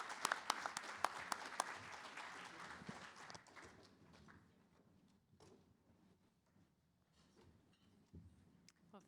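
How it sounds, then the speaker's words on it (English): A panel audience at an ALS treatment prize event breaks into applause that is loud at first, then thins into scattered claps and fades, with faint room noise and shuffling toward the end. "Please join me in thanking the panel."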